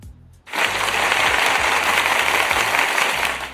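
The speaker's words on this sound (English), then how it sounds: "Let me give her some applause here real quick." Studio applause recorded as a sound effect for a talk show, a dense steady wash of clapping that starts abruptly after a brief quiet moment and holds at even loudness to the end.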